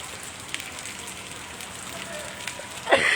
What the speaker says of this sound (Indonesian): kondisi di sini Tribuners masih hujan